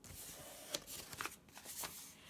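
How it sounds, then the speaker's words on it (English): Paper is folded corner to corner diagonally for a craft purse, producing close, crisp rustling and creasing sounds in short bursts. "Now I'm going to actually fold this corner to corner diagonally."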